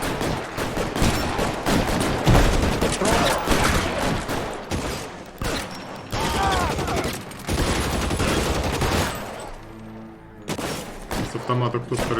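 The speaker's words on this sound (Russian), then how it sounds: "С автомата кто стрелял?" Automatic gunfire in L.A. Noire, with dense rapid bursts and shots rattling for several seconds, a brief lull, then more firing near the end, over game voices.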